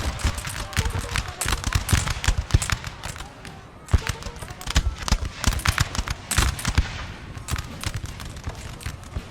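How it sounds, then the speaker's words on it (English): Musket volleys from massed Napoleonic troops in Napoleonic Total War 3 crackle in dense, ragged bursts, with sharp cracks layered over a continuous rattle of distant fire, while a voice talks over the battle. "they're out shooting the French right at this moment"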